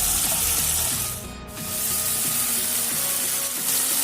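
A ground paste frying in mustard oil in a kadai hisses and sizzles continuously, with scraping stirring sounds, easing briefly midway before returning at full strength.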